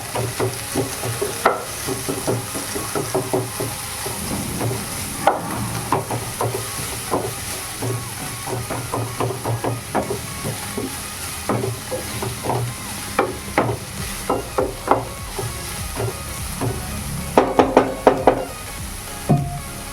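Onions sizzle in a pan for a soya chunks roast, with a steady frying hiss under repeated scraping and clacking strokes of a spoon stirring them, the stirring growing busier near the end.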